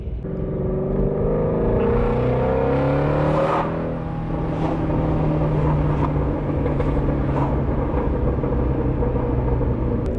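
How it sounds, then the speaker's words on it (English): A Ford Mustang GT350 fitted with a new, louder aftermarket exhaust downshifts, giving a close, loud raspy engine note. The revs blip and drop, then settle into a steady rumble with scattered crackling burbles. "Let's listen to this downshift."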